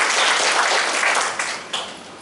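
Enthusiastic applause from a church congregation during a Sunday worship service, dense loud clapping that fills the space and then begins to thin out toward the end, with a few isolated louder claps.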